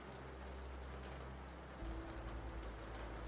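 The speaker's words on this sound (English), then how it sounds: "the rain continues to whisper against the window and awning" Soft, steady rain patter against glass, faint and continuous, with a low hum shifting partway through.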